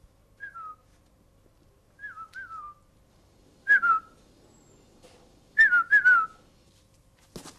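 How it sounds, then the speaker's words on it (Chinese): Short two-tone whistles used as a secret signal, sounding in repeated bursts of two or three, some near and sharp, others softer, with quiet gaps between and no talk. "一听见哨声你就往外跑"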